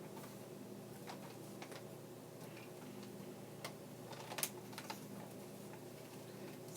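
A home sewing machine stitching steadily, its soft repetitive ticking mechanism running close by at low volume under a faint room hum, with a few sharper clicks partway through.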